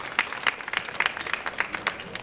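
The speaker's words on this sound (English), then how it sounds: "Let's give a round of applause for Freeholder Charlie Kenny." A modest round of applause at a mayor's senior summit, scattered claps fairly quiet and moderately spaced, heard from within a small audience.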